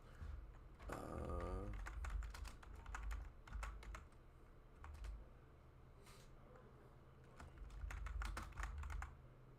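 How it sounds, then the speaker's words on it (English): Rapid, uneven clatter of keys on a computer keyboard, close and fairly quiet, running steadily with brief pauses and a couple of louder bursts. "I'm typing up the list now"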